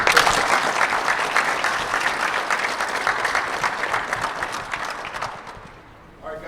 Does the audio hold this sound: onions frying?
no